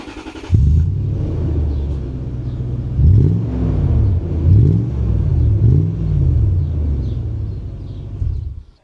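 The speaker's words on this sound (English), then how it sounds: "It's actually got a nice exhaust on the thing already, so you can kind of hear a nice note coming from it." A Toyota Land Cruiser with a large exhaust pipe idles with a deep, steady rumble, then blips the throttle three times in a row, each rev rising and falling, before the engine settles and cuts off.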